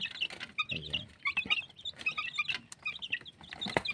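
Incubator-hatched chicks in a pen, a cluster of high, thin peeps and cheeps repeating in quick irregular bursts, close by, with faint low scuffling underneath and no talk.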